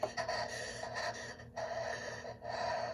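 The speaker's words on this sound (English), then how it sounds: "You'll also hear this heavy breathing." Heavy, ragged breathing repeats in slow cycles of rasping inhales and exhales, close and fairly quiet with a faint hum beneath.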